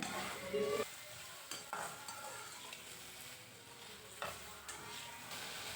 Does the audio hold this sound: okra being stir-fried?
yes